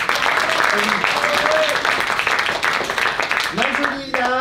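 Applause from a theatre audience at a teen drama show, a dense steady wash of clapping filling the whole stretch, with a voice and some tonal sounds rising near the end.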